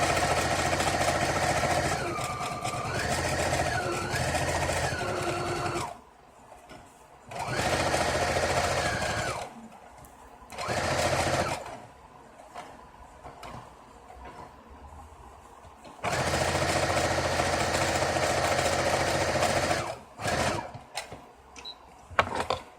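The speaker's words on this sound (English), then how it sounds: "I usually raise up the needle, put it back down, and sew across the bottom." A sewing machine stitching across the bottom of a standard-size pillowcase. Loud, steady mechanical whirring comes in several long runs, separated by quieter pauses and short bursts.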